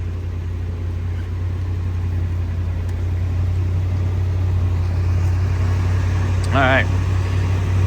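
A 2003 Toyota Tundra engine idles steadily after a throttle body cleaning, a constant low hum running throughout, with a brief voice near the end.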